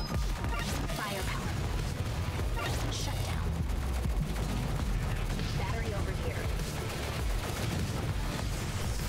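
Bullet hell shooting in the twin-stick shooter Assault Android Cactus: a dense, continuous barrage of rapid gunfire, blasts and crashes, loud and busy throughout, with a voice talking over the action.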